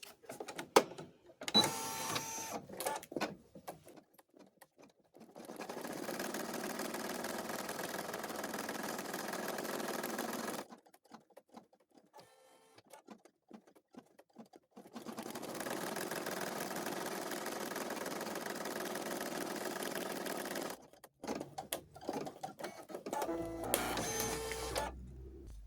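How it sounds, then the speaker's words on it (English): An embroidery machine stitches out a placement stitch in two long, steady runs of buzzing, whirring mechanical noise, separated by quiet pauses and scattered clicks, with no speech. "Now that we have the second part of the pocket loaded into our machine, let's stitch out the placement stitch."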